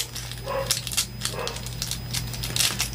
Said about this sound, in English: I do apologize for the doggos barking in the back.